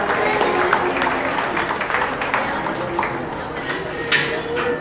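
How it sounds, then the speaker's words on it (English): Spectators clap for young exhibitors at a county beef cattle show, a moderate, steady ripple of applause from a crowd in an arena, with a voice speaking faintly over part of it. "Let's give these kids a round of applause."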